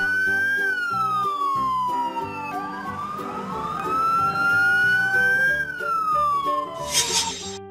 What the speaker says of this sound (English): Police car, a vehicle used by police officers, equipped with sirens and lights for patrolling and responding to emergencies.